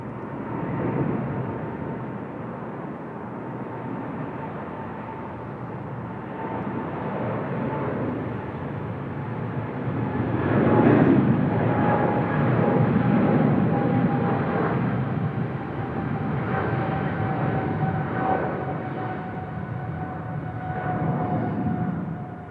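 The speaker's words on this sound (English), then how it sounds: "Nice, nice long takeoff roll there as well" A jet airliner rolls down the runway for takeoff at Seoul Incheon Airport, a steady broadband engine roar with a faint whine that swells midway and holds, continuous and fairly loud without talk.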